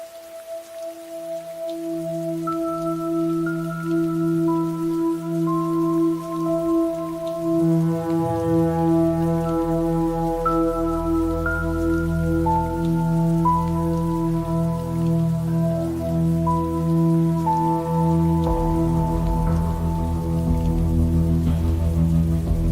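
Steady rain falls in an even, continuous patter, beginning faintly and soon settling into a constant wash beneath sustained, calm musical tones.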